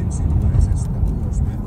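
A car drives through Joensuu, Finland, its low engine and road rumble steady and close inside the cabin while a person talks over it.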